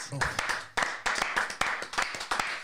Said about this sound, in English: Gentlemen, give yourselves a round of applause.